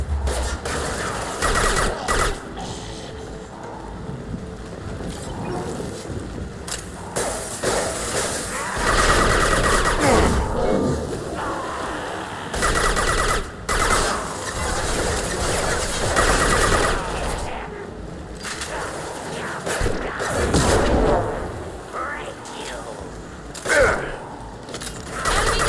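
Sustained gunfire in Mass Effect 2 during a combat mission: loud bursts of automatic fire and single shots, with mechanical clanks and impacts, under brief spoken lines.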